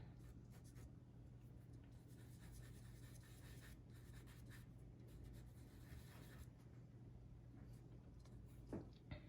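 A pastel pencil scratches and rubs across paper in close, quiet strokes as black is worked into a dog nose drawing, with continuous soft scraping and a faint low hum behind.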